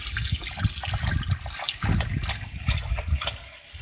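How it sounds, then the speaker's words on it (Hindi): Water starting to run into an old, antique-style washing machine, a steady splashing gush and trickle with uneven, bubbling bursts, close and moderately loud with no talking. "बिल्कुल पानी आना शुरू हो गया"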